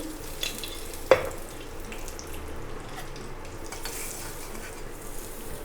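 Mustard seeds, urad dal and curry leaves sizzle steadily in hot oil in a kadai, a constant close frying hiss with one sharp pop of a spattering seed early on and no talking.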